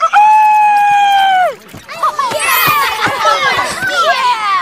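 A crowd of cartoon animals in a theater bursts into loud, busy cheering and shouting, with overlapping excited voices after a long sustained note at the start.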